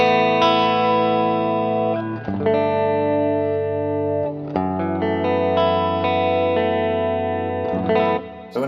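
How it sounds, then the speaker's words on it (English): Clean electric guitar rings out through a Roland Jazz amp model with optical compression, giving smooth, even chords and arpeggiated notes that sustain evenly, loud and close, with no talking. "the Rockman clean tone is kind of that kind of pure clean 80s compressed kind of tone"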